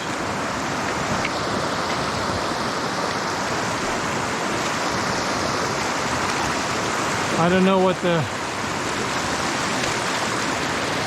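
A river running at around 500 cubic feet per second on a warm, sunny afternoon gives a steady, broad rushing wash throughout, with a brief voice speaking near the middle and a short rising chirp about two-thirds through.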